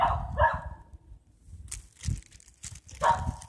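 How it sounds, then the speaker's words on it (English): A dog barks in short sharp bursts at a squirrel up in a tree, three distinct barks spaced over a few seconds with quiet rustling in between, fairly close. "She's barking at an actual squirrel in a tree"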